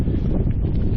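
Steady, loud wind buffeting the microphone while cycling outdoors near Invershin in the Scottish Highlands, a continuous low roar without a break and no voices.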